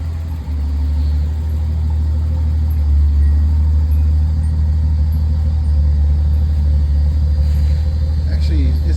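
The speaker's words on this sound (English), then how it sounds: "Engine sounds good." A Datsun 280ZX engine idles with a steady, loud, low rumble that holds even throughout, voices faintly present nearby.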